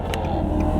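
A Maserati idles and revs nearby on a street in Bellevue, a deep, loud, throbbing engine rumble held steady through the short moment.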